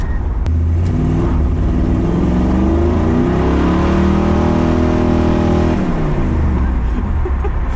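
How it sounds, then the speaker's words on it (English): A small-block Chevy 400 V8 in a 5-speed drift truck roars loud and close, revving hard with rising and falling pitch for several seconds as the rear tires spin. "If I give it any more than a quarter throttle, it's just gonna spin."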